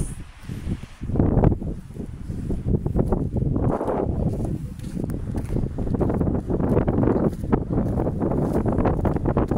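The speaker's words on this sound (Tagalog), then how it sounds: "Ang lakas ng hangin." Strong wind buffets the microphone continuously, a loud rumbling roar with gusty swells and no clear voices.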